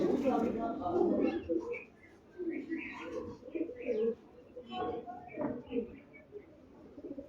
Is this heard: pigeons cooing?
yes